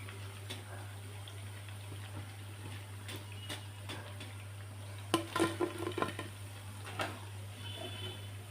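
Wheat flour punugulu fritters fry in hot oil with a steady, close sizzle over a low hum, broken by a short cluster of clinks and scrapes midway.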